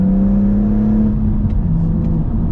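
BMW M135i with the N55 engine tuned past 400 horsepower, accelerating hard; a loud, steady close engine drone with a low rising tone, alone without talk.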